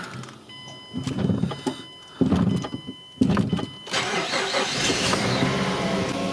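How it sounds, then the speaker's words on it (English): A car cranks in a series of rough, stuttering bursts before the engine catches and settles into a steady, close idle with a faint whine on top. "Okay, let's start the car."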